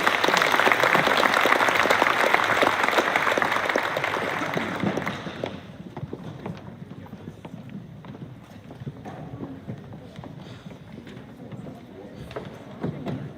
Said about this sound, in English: Please give a round of applause to our cross-country team this year.